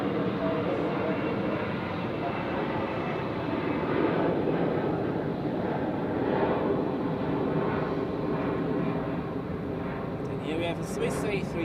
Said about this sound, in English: Swiss A320 Neo.